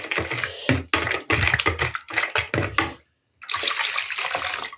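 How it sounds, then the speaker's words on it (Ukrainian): Milk poured into pancake batter in a bowl, then stirred: a liquid splash followed by rapid scraping, sloshing strokes in close, irregular bursts, broken by a brief silent pause before stirring resumes. "А тепер сюди залю молоко. Це все. І гарнесенько так розмішаємо все."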